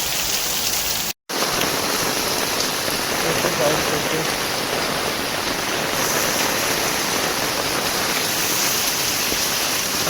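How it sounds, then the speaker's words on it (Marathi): Heavy monsoon rain pours steadily on a Konkan village, a dense, continuous roar of drops on surfaces, loud and close throughout apart from one momentary cutout near the start. "आता एवढा पाऊस पडते ना"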